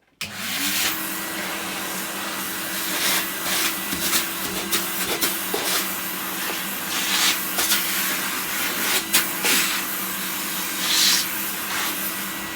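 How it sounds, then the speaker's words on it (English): A Numatic NV375 vacuum cleaner runs steadily with a breathy, hissing roar, its suction shifting slightly now and then as it sucks up rust. "Let's get the vacuum, look, there's so much rust in here"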